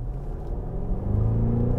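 Cadillac CT6 Blackwing V8 sedan accelerating in sport mode with manual shifting, a deep engine rumble that swells steadily louder over a couple of seconds, heard from inside the car.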